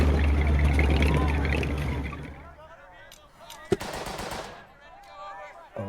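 Machine gun fire in the WWII tactics game Burden of Command, a loud sustained roar of automatic fire over the first two seconds, then fading to scattered sharper shots and distant crackle.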